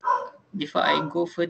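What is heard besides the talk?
dog barking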